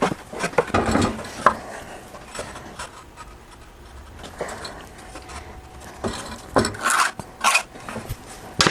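A handsaw cuts through lumber with irregular raspy strokes, bursts of scratchy sawing broken by pauses, close and without talk.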